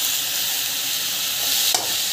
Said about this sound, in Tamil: ஸோ இதுவும் வந்து நல்லா வதங்கணும்